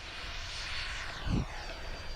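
A Freewing F-18 90mm electric ducted-fan RC jet flies past low over a grass field with afterburner effects lit, producing a loud rushing whoosh that builds and peaks in a brief roaring pass.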